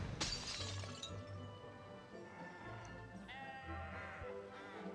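Glass jar shattering in the Harry Potter and the Chamber of Secrets game after being struck by the Flipendo spell: a sharp, bright crash at the start, then tinkling debris and a sheep-like bleat over game music.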